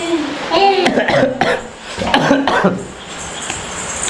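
Several harsh coughs break out between stretches of nearby talking, rough and throaty, with a short pause before a final burst.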